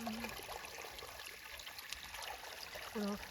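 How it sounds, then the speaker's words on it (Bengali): Irrigation water streams through a potato field in a steady, moderately loud flowing trickle, with a brief voice sound near the end. "আলু খেতে জল দেওয়া হচ্ছে এভাবে আলু ঘেটে জল দিলে"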